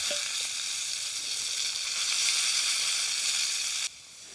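Steady, loud sizzling of a small steak frying on a hot surface while wild camping on Inish Davar island, Ireland, a continuous crackling hiss that drops slightly in level near the end.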